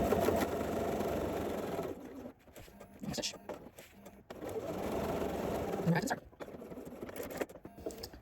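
A sewing machine topstitches the collar of a jacket in two long runs of steady whirring, separated by a brief pause and softer handling noises.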